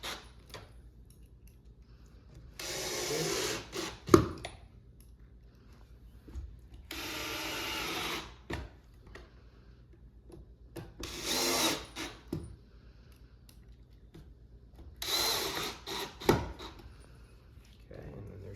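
A drill driving pocket screws into a wooden farmhouse shoe bench, four separate whirring bursts of a few seconds each, with quiet knocks and handling sounds between them.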